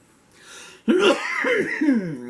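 A person lets out a few harsh, voiced coughs in quick succession, close and fairly loud, following a soft breath.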